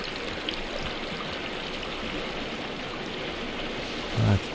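A creek flows steadily in the survival game Sons of the Forest, a broad, even rushing wash that holds constant throughout with a brief low thump near the end.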